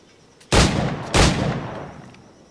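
Firearm shots in Assassin's Creed IV: Black Flag: two loud, close blasts about half a second apart, each with a long rumbling decay, and no talking.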